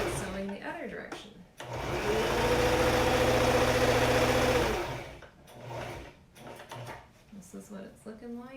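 Close by, a sewing machine stitches fabric for a dress in one loud, continuous whirring run of a few seconds, with someone speaking before and after it.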